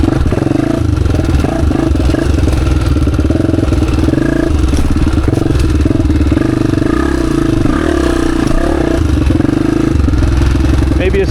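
A Honda XR250 dirt bike engine drones loud and close while riding a downhill trail. The steady, rough mid-range roar barely changes pitch across the whole stretch.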